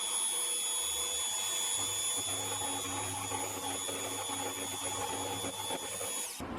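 A milling machine mills a shop-made double-ended metal tool, producing a continuous close whine with a low motor drone and a gritty cutting texture that stops abruptly at the end.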